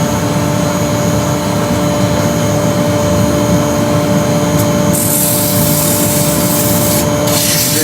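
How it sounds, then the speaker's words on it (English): Abrasive paper rubs against the beads of a wooden raised bowl spinning on a lathe, giving a loud, continuous sanding hiss that brightens sharply near the end. "Do your final shaping of your beads if you want to, with a bit of abrasive."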